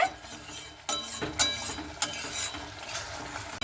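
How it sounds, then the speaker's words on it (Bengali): Spatula scraping and clinking against a pan while cooked flat beans (sim) are stirred, several distinct strokes with a soft sizzle underneath, close and fairly quiet, no talking. "আর দেখুন এইভাবে কিন্তু খুব ভালো মতো করে আমি নাড়াচাড়া করে নিচ্ছি"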